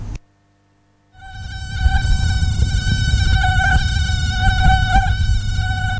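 Continuous high whining buzz of a mosquito in a radio announcement about the Aedes aegypti mosquito and Zika, loud and steady with slight wavering after a brief pause.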